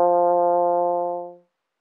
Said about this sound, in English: we're going to buzz into the mouthpiece now that it's inserted to the trombone. An F sounds like this